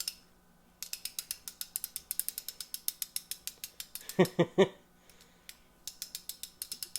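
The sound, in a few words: cordless ratchet pawl clicking on teeth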